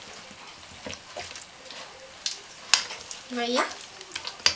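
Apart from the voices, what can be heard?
mixing olives into mortadella meat paste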